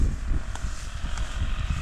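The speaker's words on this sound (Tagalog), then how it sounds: "malakas ba yung hangin dito?" Strong wind buffets outdoors, a rough low rumble pressing against the microphone in uneven gusts over a short stretch.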